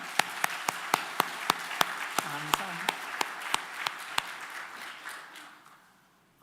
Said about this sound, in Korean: 영광의 박수를 우리 주께 하나님께 올릴 수 있기를 바랍니다.